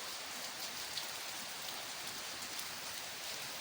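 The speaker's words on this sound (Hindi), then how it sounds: "लेकिन हमें तो बारिश जो है ना वो लगातार लगी हुई है" Continuous steady rain falling in a village during an all-day downpour, a dense even hiss of drops on surfaces with no pauses and no voices.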